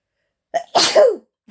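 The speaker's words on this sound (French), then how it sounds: "je viens d'éternuer un truc de dingue" A single loud, close sneeze with a short sharp intake before it, followed by a faint sniff.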